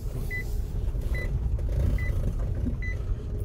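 Four short electronic warning beeps repeat at an even, slow rhythm over the low hum of an idling diesel car engine with a Delphi injection pump.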